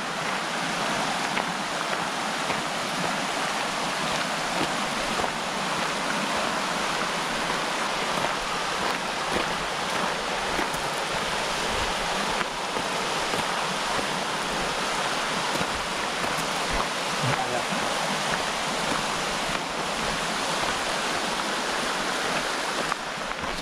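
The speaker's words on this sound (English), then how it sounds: "there's a beck, which is a tributary to the river, down under this bridge" A beck, a small tributary of the river, flows under a bridge beside a footpath at a caravan campsite near Bolton Abbey, giving a steady, unbroken rush of water that holds at an even level throughout with no voices.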